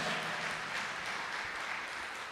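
A church congregation applauding mid-sermon, a continuous, even roar of many hands clapping at moderate loudness for the whole stretch.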